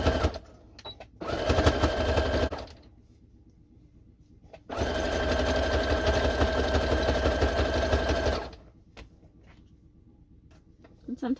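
A sewing machine stitches along a fabric edge in two sustained runs of fast, even mechanical whirring, close by, separated by quieter pauses with light handling noises.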